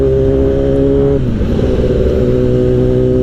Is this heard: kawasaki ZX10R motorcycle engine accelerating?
yes